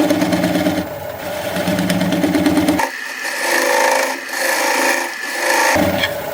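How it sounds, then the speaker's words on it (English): Maple burl bowl spinning on a wood lathe while a 3/8 inch swept-back bowl gouge cuts it, giving a steady close scraping rasp with a broad hum that shifts in tone midway as the cut changes. "I'm going to switch to a 3/8 inch swept-back bowl gouge so that I can get in there closer"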